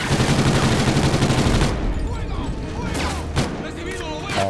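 Rapid automatic gunfire in the video game Call of Duty Ghosts, dense bursts for the first second and a half, then scattered distant shots and thumps under a quieter battlefield bed.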